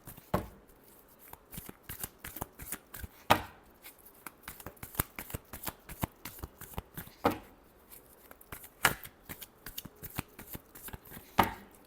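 Tarot cards shuffled by hand in rapid, uneven bursts of crisp riffling snaps, close and fairly quiet, with no talking.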